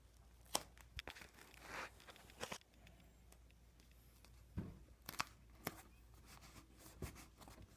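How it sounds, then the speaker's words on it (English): Tape torn off a roll for patching a cracked plastic bumper on an Acura RSX, heard as several short, sharp rips and crinkles scattered through a quiet stretch. "Now I'm gonna patch up this side with tape."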